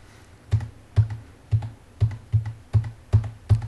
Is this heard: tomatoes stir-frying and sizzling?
no